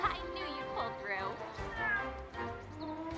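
A cat meows in the video game Monster Hunter World, with several rising and falling meows mixed with in-game sounds and a person talking over them.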